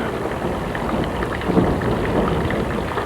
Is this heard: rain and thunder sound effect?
yes